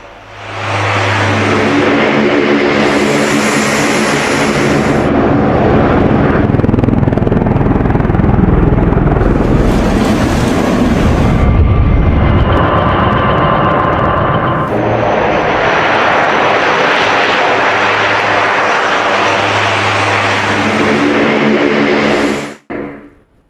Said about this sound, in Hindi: ये देख रहे हैं अमेरिकी C-130 विमान, यह विमान भी उतार दिया गया था।